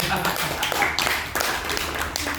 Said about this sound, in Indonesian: Tepuk tangan itu Tuhan